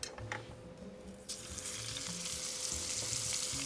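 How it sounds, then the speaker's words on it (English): Burger patties sear in a hot pan, a soft sizzle that swells into a steady louder hiss after a second, with faint low thumps underneath. "Get those going. You want a nice good sear."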